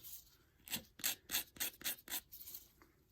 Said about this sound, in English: I'm just going to gently file the tops of the nails.